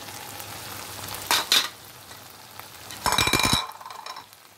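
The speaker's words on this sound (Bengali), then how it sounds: "এখন দিয়ে দিচ্ছি সেই ভেন্ডিগুলো যেগুলো ভেজে রেখেছিলাম।" Previously fried okra is tipped into a hot pan and stir-fried, with a steady sizzle broken by two bursts of louder crackling and spatula scraping as the pieces land and are tossed.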